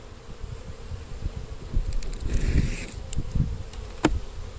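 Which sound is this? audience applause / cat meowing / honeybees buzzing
honeybees buzzing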